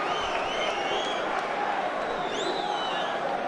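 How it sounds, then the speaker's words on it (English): The crowd at a boxing bout between David Haye and Dereck Chisora gives a steady, loud roar and murmur of reaction that fills the hall without a break. "Crowd respond to that as well, they saw it."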